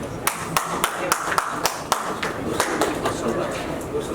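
Audience applause in an assembly hall at an honouring ceremony: scattered, irregular claps, some sharp and distinct, over a steady murmur of crowd noise, with a voice faintly present beneath.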